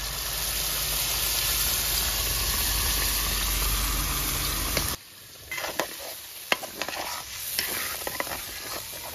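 Marinated chicken chap fries in a pan with a loud, dense sizzle that stops abruptly midway, followed by quieter scraping, stirring and clattering.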